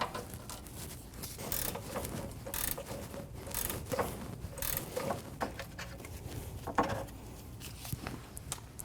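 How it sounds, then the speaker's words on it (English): Close-up ratcheting clicks and metallic scraping as a 17mm wrench and socket loosen a rear shock absorber bolt on a 2008-2015 Scion xB, in irregular quick bursts at a faint level. "Using a 17mm wrench and socket, we're going to remove the bolt for the shock."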